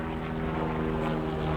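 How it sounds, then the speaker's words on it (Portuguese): A helicopter passes overhead, heard as a steady, loud rotor-and-engine drone with low harmonic tones that holds throughout, with no one speaking. "tô passando um helicóptero aqui agora"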